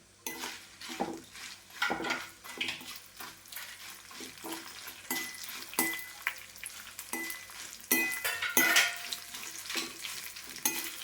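Dried red chillies fry in hot oil for a homemade dried-fish sambar, a steady crackling sizzle broken by repeated clinks and scrapes of a utensil stirring the pan, close and moderately loud with no talking.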